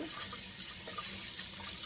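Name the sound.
tap water running while rinsing flour dough for gluten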